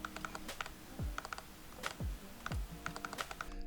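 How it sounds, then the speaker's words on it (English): A Sigma 18-35mm f1.8 lens mounted on a Fujifilm X-T4 hunts for focus, giving faint, close mechanical clicks and ticking bursts in irregular clusters, with quick low thuds roughly every half second. "The autofocus with this lens is really loud and you always hear that pumping sound,"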